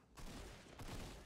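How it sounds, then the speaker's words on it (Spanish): Rapid bursts of video game gunfire crackle in a dense volley, fairly faint and somewhat distant, with no talking. "Escucho disparos"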